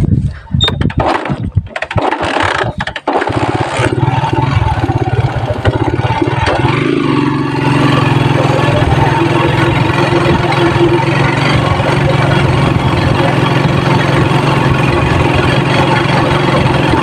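A motorcycle engine runs steadily at close range on a newly opened rural road, a continuous idling drone after some handling bumps at the start, with the engine sound uneven as if about to stall.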